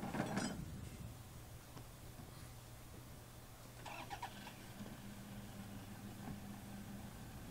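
A vehicle drives off while towing horse rail fencing so it pays out along the ground during a fence installation, with a steady low engine hum and faint mechanical rattles throughout.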